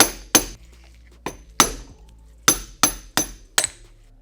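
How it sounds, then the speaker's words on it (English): A small metal punch is struck against a dirt bike shock end cap to knock it loose. Seven sharp, bright metallic taps ring out close up in an uneven rhythm, with near silence between them. "You just tap on it with a little punch and it'll come loose."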